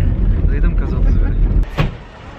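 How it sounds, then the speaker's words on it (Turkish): Soviet-era Volga GAZ-31 car riding along, a steady low engine and road rumble that fills the clip, with a door or window clunk near the end and voices talking over it. "ilk defa Sovyet zamanından kalma bir arabaya bindim"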